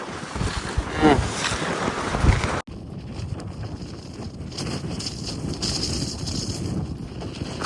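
Wind buffets the microphone in a steady, rough rush in Mongolia, with a sudden cutoff partway through and continued gusty noise afterward.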